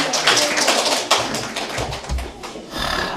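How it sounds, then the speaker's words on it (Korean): A church congregation claps together in a steady, fast rhythm during a Korean Sunday worship service, loud and close, filling the room with dense overlapping hand claps. "할렐루야. 박수로."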